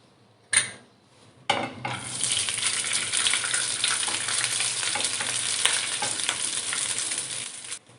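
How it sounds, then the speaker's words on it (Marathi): Cooked rice tipped into a hot pan of oil with cinnamon and cloves over a low flame for Marathi coconut rice, giving a sharp burst of sizzle followed by steady frying crackle and scraping stirring that continues close and loud throughout. "त्यानंतर आपण यामध्ये हा भात ॲड करणार आहोत."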